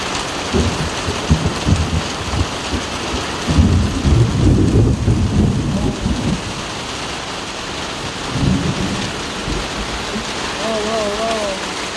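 Heavy rain pours steadily through a summer thunderstorm, with low rumbling thunder rolling in bursts and a voice exclaiming briefly over the downpour.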